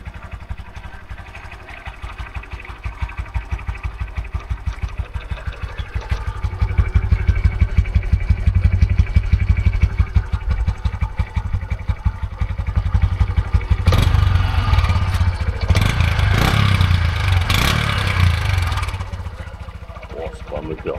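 A Honda Super Cub 125 motorcycle idles with a rapid, even putter, then revs up in several rising bursts before settling, close and fairly loud, while someone talks over parts of it.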